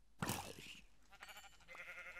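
Minecraft sheep bleating in a Tekkit Lite modded game, a short burst near the start followed by fainter tonal game sounds and ambience.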